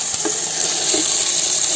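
Ground spice paste sizzles with fried onions in a pot for aloo pulao, a steady close hiss with a few soft stirring bumps and no voices.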